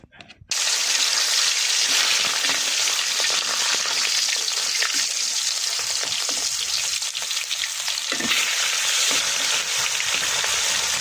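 Chicken leg pieces fry in hot oil, giving a loud, steady, close sizzle that holds evenly for several seconds after starting abruptly, with occasional stirring noise and no talking.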